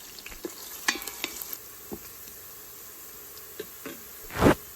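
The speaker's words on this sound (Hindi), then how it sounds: "तकरीबन 3-4 मिनट के लिए इसको फ्राई करेंगे, जब तक ये हल्का सा येलो हो जाए" Black pepper and spices frying in a pan for a masala dal, giving a soft steady sizzle broken by scattered scraping stirs and one louder clatter near the end.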